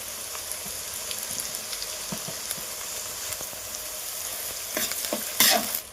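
Ginger garlic paste frying in a pan for a village chicken gravy gives a steady close sizzle with scattered stirring scrapes. A louder burst of spitting comes near the end, with no talking.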